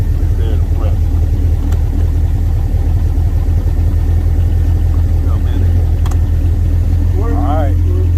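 A vintage 1967 Lotus Seven engine warming up, a loud, steady low idle rumble running throughout while people talk nearby.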